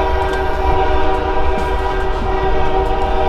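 A passing train sounds its horn, heard from a moving car on a road trip from Toronto to Vancouver, Canada; a steady loud rumble with sustained horn tones runs throughout without talk.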